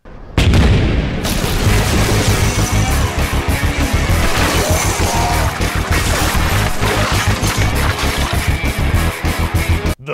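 Huge explosion in a Resident Evil Afterlife movie action scene, heard as a sustained, dense roar of booming blasts and rapid bursts that stays loud for about ten seconds with no talk.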